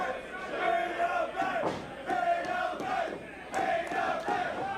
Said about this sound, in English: Crowd coming alive for TME.